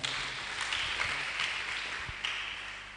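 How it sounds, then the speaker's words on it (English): A modest audience claps briefly at a children's event roadshow, a thin, distant patter of hands with a few louder taps over a roomy background. "Please give him a round of applause."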